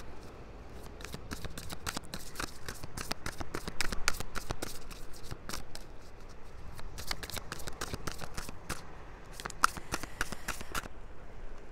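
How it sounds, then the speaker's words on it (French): Oracle cards are shuffled steadily at close range, with quick crisp riffling flicks repeating in a fast, irregular rhythm over a soft background hiss, with no talking. "pendant que je bats les cartes"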